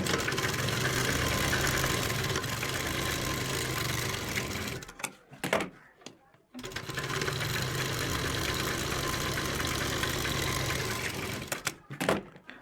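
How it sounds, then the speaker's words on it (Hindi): A sewing machine stitches a salwar seam in a long steady run, stops with a few clicks and handling noises, then runs again and stops briefly near the end. "तो जैसे कि मैं आपको सिलाई लगा कर दिखाता हूँ"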